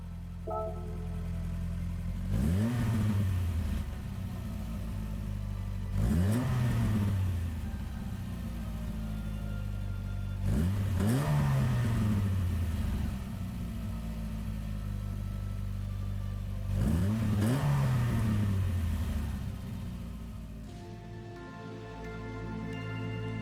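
Inline four-cylinder engine of a 1985 Renault R4 GTL in Gran Turismo 7, revving up in four rising sweeps, each easing off before the next, loud and steady with no talking.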